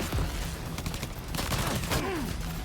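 Rapid bursts of gunfire in a video game crackle in dense clusters, fairly close and loud over a steady background of game ambience, with a few sweeping whooshes.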